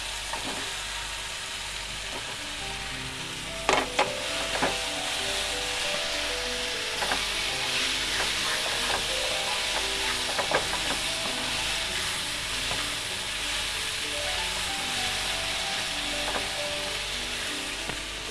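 Mushrooms fry in a pan with a continuous, even sizzle, broken by occasional sharp clicks and scrapes of stirring, close and steady with no voices.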